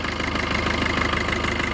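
Steady, evenly pulsing idle of a Maruti Vitara Brezza engine just after starting, a close and fairly loud mid-pitched rumble with a regular knocking rhythm throughout.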